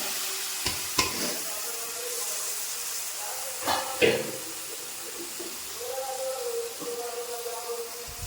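Cooked jackfruit seeds drop into a pan of fried onions, giving a couple of sharp clatters and scrapes of stirring over a steady soft sizzle, while someone talks throughout.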